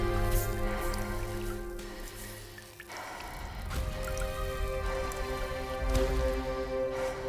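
Rain falls steadily in Death Stranding, a continuous hiss of drops and dripping layered under game music, fairly loud throughout with a brief dip midway.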